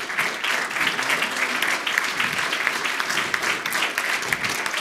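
An audience claps throughout a diploma presentation at an award ceremony, a continuous, even wash of many hands at moderate loudness with no breaks.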